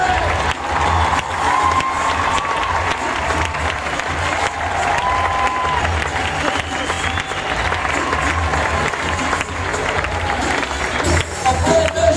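A stand-up comedy audience cheers and applauds to welcome comedian John Crist, with a dense, steady roar of clapping and crowd noise filling the whole stretch and voices mixed in.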